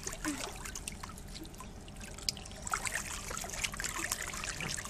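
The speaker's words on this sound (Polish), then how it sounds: "łapię wodę tak do wiaderka" Water trickles and splashes in a pool as it is caught in a bucket, a steady close-up dribble with small irregular splashes throughout.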